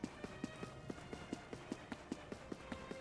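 Horse hooves clip-clopping in the video game Dragon Quest 11, a steady, evenly spaced run of about fifteen soft hoofbeats at a trotting pace, fairly faint and without speech over them.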